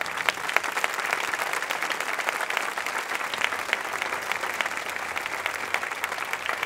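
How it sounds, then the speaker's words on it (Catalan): Strong, sustained applause from a theatre festival audience, many hands clapping in a dense, even roar that holds steady from start to finish. "vos demano un fort aplaudiment per a ell"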